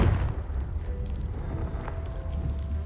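A Confringo spell explosion in the Hogwarts Legacy video game gives a low rumbling boom that rolls on steadily with faint tonal game chimes above it.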